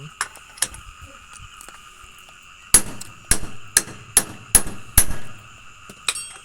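Sharp metal hammer blows strike a jammed clutch part on a Kamco power tiller, a few scattered knocks followed by a quick run of about six loud, ringing hits at close range.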